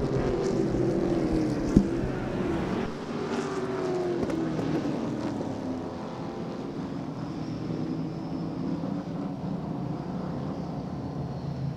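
Race cars roar past together on the oval at Claremont Motorsports Park, a dense, steady engine drone with rising and falling tones heard from a distance and continuing without a break.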